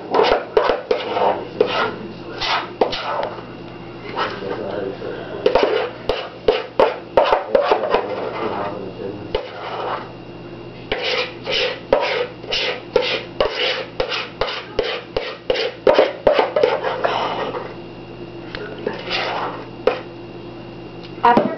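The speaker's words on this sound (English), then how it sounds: "Make sure you scrape all the sides of the bowl to get all the batter out." A spatula scraping cake batter from a mixing bowl into a greased pan: rapid, repeated rubbing strokes in bursts, close and fairly loud over a steady low hum, with brief pauses between runs of scraping.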